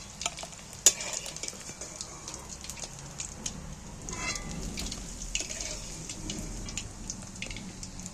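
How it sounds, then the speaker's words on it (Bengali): Fish roe frying in a pan of hot oil, a continuous crackling sizzle with scattered pops and occasional utensil clicks, close and moderately loud, without speech. "এবার বাদ বাকি সবগুলোকে একইভাবে ভেজে নেব"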